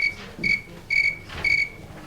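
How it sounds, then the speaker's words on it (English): A snowy tree cricket chirping in a steady rhythm, with three clear, close trills evenly spaced against a faint background. "So if you ever see people on a movie walk outside at night and it's chirp, chirp, it's almost always a tree cricket."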